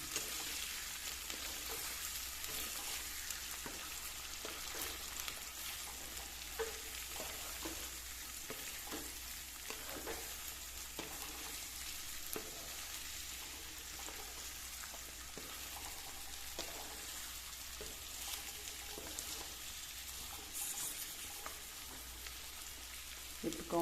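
Carrots, radish and chillies for pickle frying in a pan on low gas, a steady close sizzle with faint crackles and occasional stirring clicks, no voices.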